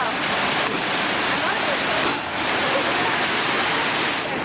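Primary effluent from a sewage treatment plant rushes down an open channel, a steady, loud broadband roar of flowing water with no pauses.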